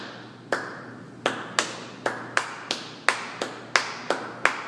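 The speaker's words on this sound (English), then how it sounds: "let's start clapping, or I'll start clapping" A single pair of hands claps in steady rhythm, about a dozen sharp, close claps evenly spaced against a faint background hum, with no voices.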